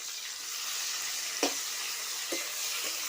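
Sliced bitter gourd frying in a pan with salt and turmeric, stirred: a close, even hiss of sizzling oil with two or three soft utensil knocks, no voices over it.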